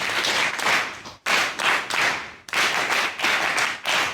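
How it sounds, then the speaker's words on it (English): Luncheon guests applaud in short bursts of dense clapping, stopping briefly twice and then starting up again, fairly close and fairly loud. "let's put together a warm round of applause for Dr. Margot."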